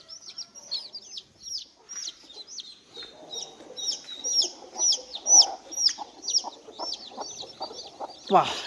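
Native country chicks peep in rapid high chirps, a dense chorus of many small calls near and continuous, with a hen clucking softly beneath them.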